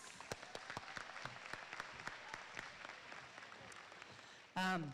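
An audience at an 8th-grade promotion ceremony applauds with a steady patter of scattered, fairly distant claps that fades, then a short loud voice cuts in at the end.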